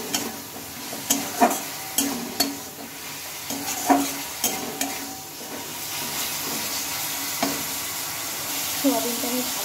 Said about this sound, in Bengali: সোয়াবিনটা আমি ভালোভাবে মশলার সাথে কষিয়ে নিয়েছি